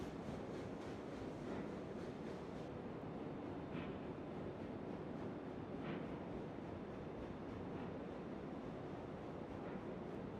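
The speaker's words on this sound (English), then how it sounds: "Good grief, this poor engine's struggling." A struggling steam locomotive in the game Railroads Online, a dense low rumbling chug that rolls on steadily and unbroken, moderately loud, with no talking.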